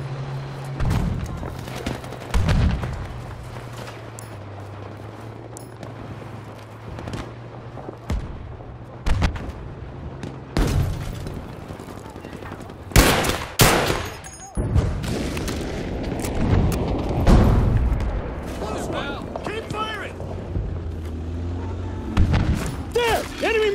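Gunfire and heavy booms in a Battlefield V multiplayer Breakthrough match, with sharp scattered shots and several loud blasts spread irregularly over a low engine hum, some bursts clustered together, and voices calling out in between.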